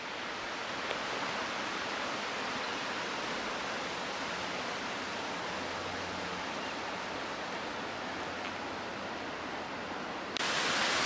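George Creek runs steadily beside a forest trail off a rough 4x4 road, a constant broadband rush of flowing water that stays even and fairly close throughout, with a brief louder surge at the very end.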